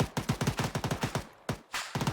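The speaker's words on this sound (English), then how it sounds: "Some gunfire being heard" Gunfire in the Arma 3 video game: rapid, close bursts of automatic shots in quick succession, with a short pause before a final burst.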